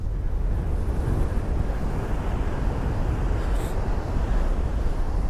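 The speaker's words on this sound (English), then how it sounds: "on this spot, it is windy" Strong coastal wind at Hengistbury Head on a winter's day roars and buffets the microphone in a constant low rumble, with no voices present.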